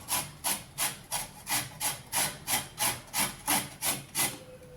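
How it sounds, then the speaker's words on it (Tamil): Carrots being hand-grated for a carrot cashew kesari: about a dozen steady, evenly spaced rasping strokes, close and fairly loud, with no talking. "இப்போ இந்த கேரட்டை துருவல் பண்ணிக்கலாங்க."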